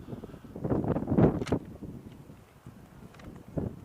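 Strong 50 mph wind gusts buffet the microphone at an outdoor football game, rumbling bursts rising and falling over faint background noise.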